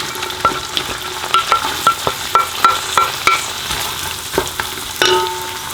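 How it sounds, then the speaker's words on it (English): Onions frying in hot butter and olive oil in a pot, a steady sizzle broken by repeated stirring scrapes and light clinks of a utensil against the pot, close and clear, with no voices. "Now we're going to fry the onions till they're nice and soft and translucent"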